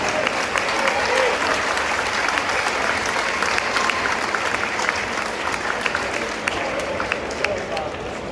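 Audience applause at a Veneto versus Toscana fight event, a dense, steady crowd clapping for several seconds with a voice talking over it.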